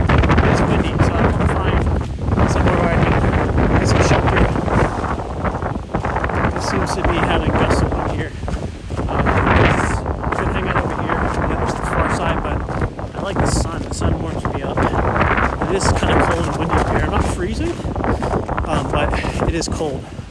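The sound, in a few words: wind blowing in the White Mountains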